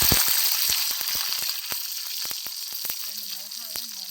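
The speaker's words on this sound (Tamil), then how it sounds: "இப்போ எண்ணெய் காஞ்சிருச்சு. கொஞ்சம் ஜீரகம் போட்டுக்கலாம்." Cumin seeds sizzling in hot oil in a pan, a steady bright sizzle with rapid crackling pops, and a soft voice faintly in the background near the end.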